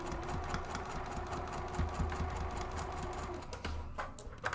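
A sewing machine stitches the exterior side of a purse organizer alongside metal zipper teeth, with a rapid, steady mechanical clatter and a low motor hum running throughout at close range.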